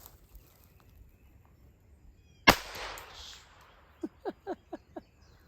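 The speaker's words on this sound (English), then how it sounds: "Let's fire another shot." A single loud, sharp gunshot from a very cheap gun cracks close by and rings off briefly, followed moments later by a quick run of short rhythmic knocks or clicks over quiet outdoor background.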